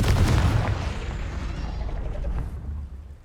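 A booming Confringo explosive spell blast in Hogwarts Legacy, a loud impact at the start followed by a rumbling decay that fades out.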